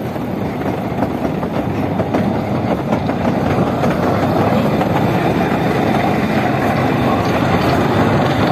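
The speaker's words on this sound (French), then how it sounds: "il y a combien de trains?" A rack mountain train on La Rhune in the French Basque Country rumbles past close by with a steady clickety-clack of wheels on rails, loud and continuous throughout.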